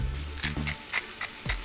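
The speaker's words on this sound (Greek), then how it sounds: "θα ρίξω μέσα στο τηγάνι και θα βοηθήσω με ελάχιστο ελαιόλαδο" Bacon fries in a pan with a spoonful of olive oil, giving a steady crackling sizzle with small pops, close and continuous throughout.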